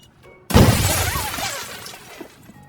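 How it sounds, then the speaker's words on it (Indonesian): Glass from every car window shatters all at once in a cartoon: one sudden loud crash, followed by a long tinkling spray of falling shards that slowly fades. "semua kaca mobil malah tiba-tiba pecah"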